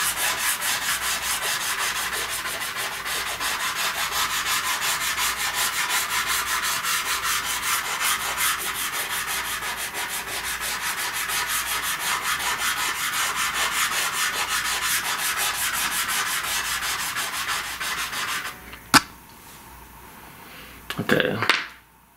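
Pastel stick rubbed back and forth on paper, a close, steady scratchy rasp in quick repeated strokes that stops near the end, followed by a couple of brief knocks.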